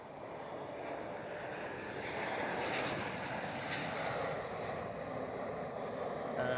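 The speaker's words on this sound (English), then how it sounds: "An E190 Eastern Airways." An Eastern Airways Embraer E190 airliner roars past at Schiphol Airport, Amsterdam. Its engine noise is a steady, moderately distant wash that swells slightly midway, with no talking.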